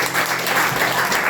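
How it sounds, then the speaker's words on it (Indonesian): A church congregation at a Sunday worship service applauding together, a dense, even wash of clapping that fills the short moment at steady loudness. "Kasih tepuk tangan dulu."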